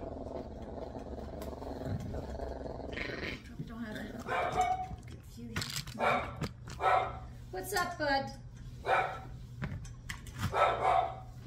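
A Yorkie Biewer being groomed lets out a few short barks and yips. People talk throughout, and faint background noise runs underneath.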